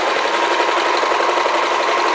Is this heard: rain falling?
no